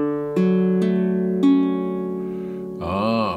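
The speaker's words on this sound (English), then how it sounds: "Can you play some strings, strum just a little bit so we can hear it?" A custom Pahu Kani baritone ukulele with a traditional body, played close and clear with three separate strums that ring out and slowly decay, then a bright final chord.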